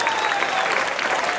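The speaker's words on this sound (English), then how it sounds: "Please give them a big round of applause." Audience applause at a luau in Ka'anapali, a short dense burst of many hands clapping together, loud and steady with no pause.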